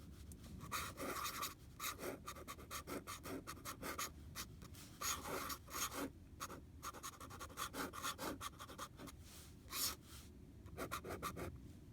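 A pen nib scratching across paper with Schaefer ink, a quiet dry rasp in short strokes and bursts with brief pauses, close and alone without talk.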